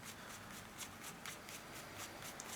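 Playing cards being shuffled during a trading card game, a fast, rhythmic run of soft riffling bursts, close and steady but fairly quiet, with no talking.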